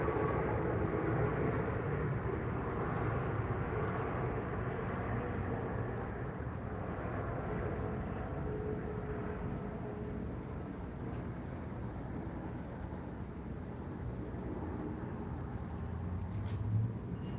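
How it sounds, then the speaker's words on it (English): An airplane passes overhead outdoors, a faint, steady broadband rumble that holds for the full stretch with no talking. "let this plane go by real quick."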